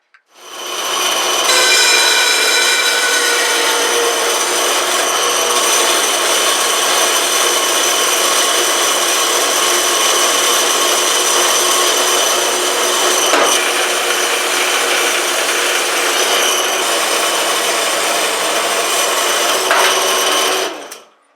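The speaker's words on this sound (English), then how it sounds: "now it's time to cut up some angle iron to mount it to the frame" Power saw cutting through angle iron for a bandsaw motor mount, a continuous bright high-pitched whine and rasp held steadily for about twenty seconds, close and loud, with no talking.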